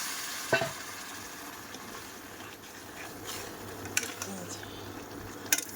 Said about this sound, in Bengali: সবজি দিয়ে এরকম নাড়াচাড়া করব।